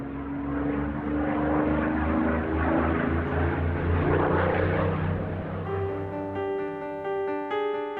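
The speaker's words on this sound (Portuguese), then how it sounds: "Esse arranjo voltaria 5 anos depois na forma do mais rápido bombardeiro da Segunda Guerra, o Mosquito." A WWII de Havilland Mosquito bomber's propeller engines drone steadily and loudly throughout, a rich harmonic engine hum that shifts pitch near the end as the aircraft passes.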